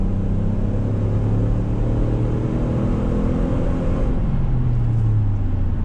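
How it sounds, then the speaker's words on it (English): A custom 2020 Chevy Tahoe with rear-wheel drive accelerates hard on throttle, its engine drone climbing steadily in pitch under loud road and cabin noise, heard from inside with no talk. "let's go ahead and do another acceleration test here, just to give you a little feel for this Tahoe on throttle"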